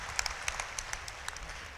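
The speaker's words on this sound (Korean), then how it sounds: "박수 한번 부탁드립니다" Scattered clapping from a small audience at a Daegu citizens' roundtable forum, a few distinct claps standing out over a light, brief patter.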